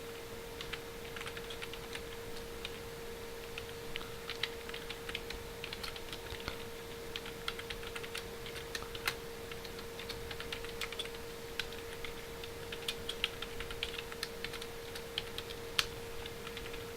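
C program code being typed on a computer keyboard, heard as a steady, quiet stream of light key clicks with an even rhythm that runs throughout over a faint constant hum.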